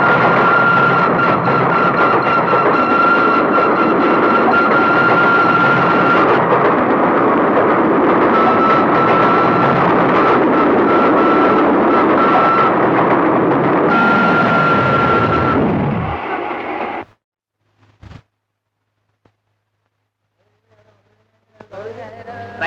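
A train runs steadily with a loud, continuous rumble and a sustained whistle-like tone, then slows and falls silent as it stops, followed by faint scattered knocks and near silence.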